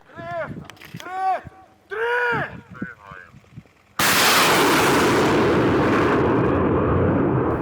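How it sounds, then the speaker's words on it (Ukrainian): Brief speech and calls, then a sudden loud launch from a Partyzan multiple rocket launcher roars and hisses continuously, close and overwhelming. "Партизан вже на позиції, останнє налаштування та постріл."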